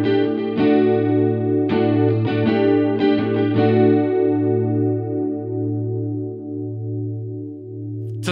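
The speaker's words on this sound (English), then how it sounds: "to a stronger multi-voice kind of sound" Electric guitar chords ring through a Digitech Luxe detune pedal set to a strong multi-voice shimmer, several strums in quick succession, then a long wavering sustain that slowly fades, loud and alone.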